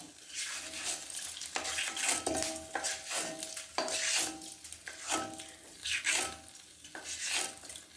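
Fenugreek seeds and dal frying in a pan for sambar, a steady sizzle broken by repeated scraping and clinking of a spoon against the metal pan, close and fairly quiet.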